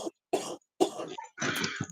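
A woman coughs in several harsh, rapid bursts, each followed by brief throat clearing, close and loud with short silent gaps between fits.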